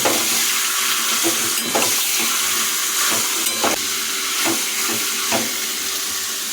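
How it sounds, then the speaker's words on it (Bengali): Chicken pieces sautéing in a wok for a spinach chicken dish give a steady, close sizzle and hiss throughout, with several sharp scraping clinks from stirring at irregular intervals. "মাংস যোগ করার পর আমরা বেশ কয়েক সময় অনেকক্ষণ ধরে কষিয়ে নিয়েছি"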